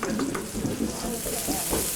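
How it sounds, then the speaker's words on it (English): Cutlets fry in a spider, a three-legged black cast-iron pan, giving a steady, close sizzle with faint scraping and stirring. "frying the cutlets in a spider, which is a pan with 3 little black legs on it"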